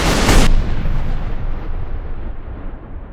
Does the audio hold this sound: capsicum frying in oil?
no